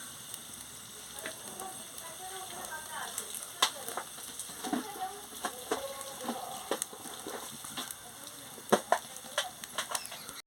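Dried red chili and whole tempering spices hit hot oil in a kadai for an eggplant and neem-leaf fry, giving a steady close sizzle with scattered crackles and pops.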